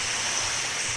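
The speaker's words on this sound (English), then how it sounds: "you can also spray water out of this hose here" Water sprays steadily from a fire truck hose in the Roblox game Shovelware Studios Hollywood, a continuous even hiss with no talk.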